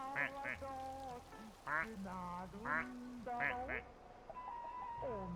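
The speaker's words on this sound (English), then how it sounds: "so that still has like the same quack sound" Rubber duck quacks in the video game Placid Plastic Duck Simulator: several short, squeaky, nasal quacks in quick pairs and clusters, clear and close over a steady soft splashing water background.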